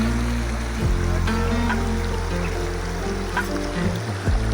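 River water flows steadily down from the mountain, a broad continuous rush close by, with low rumbling and occasional splashes, no voices over it.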